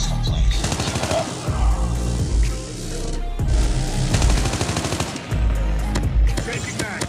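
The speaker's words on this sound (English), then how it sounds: "Friendly sentry gun." Automated sentry gun in Call of Duty Mobile firing rapid bursts with overlapping gunfire and explosions, loud and close, in several sustained volleys separated by brief pauses.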